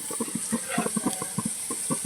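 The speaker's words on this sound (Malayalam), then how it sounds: "വെള്ളം തിളച്ച് വരുന്നുണ്ട്." Water in a pot on the stove comes to a boil before lentils are added, giving off a close, steady patter of small bubbling pops in an uneven rhythm.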